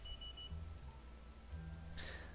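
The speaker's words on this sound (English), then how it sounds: "What is that beeping for?" Electronic beeping during rocket launch preparation on the pad in the game Kerbal Space Program, a few short tones over a steady low background hum, fairly faint.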